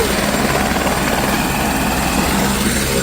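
A loud, close helicopter roars steadily in strong wind near Kedarnath, its rotor and engine noise filling the whole stretch without a break.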